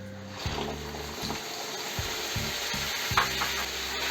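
Ground tomatoes being stirred into a sizzling dry fish curry in a pan, a steady frying hiss with repeated scraping strokes of the spoon, close and moderately loud.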